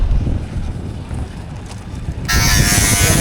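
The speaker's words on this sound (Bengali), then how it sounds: "পাইপ পাইপ কাটতেছে ব্যাটারি চালিত মেশিন" A battery-powered machine cuts a pipe during outdoor lamp post installation work. Windy rumble comes first, then a loud, steady, high-pitched cutting whine starts abruptly and continues.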